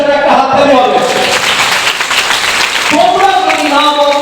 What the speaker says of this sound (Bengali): নিবেদিতার জন্য একটা হাততালি হবে।